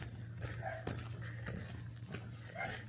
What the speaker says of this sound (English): And the little bark.